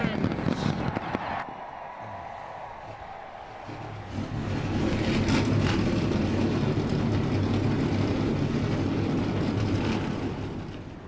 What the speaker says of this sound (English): fire these 42 engines up for our 60 laps of action